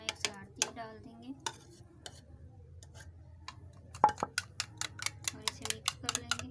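Egg being stirred with black pepper and salt in a pan: a series of quick metallic clinks and scrapes of a utensil against the pan, sparse at first then a rapid rhythmic run of taps, close up.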